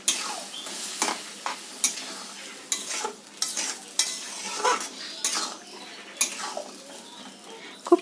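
Boiled chana dal goes into a hot pan over raised heat, sizzling steadily while a spoon scrapes and stirs in repeated strokes, with clinks of metal against the pan.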